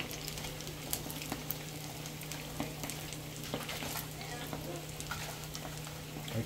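Food frying in very hot oil while sushi is being prepared, a steady low crackle and sizzle with scattered sharper pops, fairly faint, over a constant low hum.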